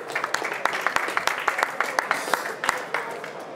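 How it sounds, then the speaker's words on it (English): A conference audience at a sports innovation event applauds to welcome speakers, a moderate, even stream of distinct claps from a room of people that gradually thins toward the end. "with a warm applause"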